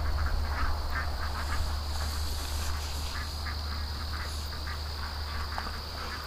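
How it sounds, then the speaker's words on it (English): Agitated backyard ducks quack in short, scattered bursts at a moderate distance on a dry, windy day, with a constant insect drone above a low background rumble. "the ducks are a little bit freaked out"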